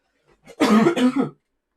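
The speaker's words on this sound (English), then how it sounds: "Elbow cough, did you see that?" A single harsh, throaty cough up close, rough and gravelly, lasting under a second in an otherwise quiet moment.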